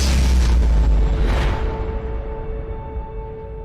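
A supernova explosion sound effect: a deep, rumbling blast swells and then slowly fades into a long, low roar, with no voices present.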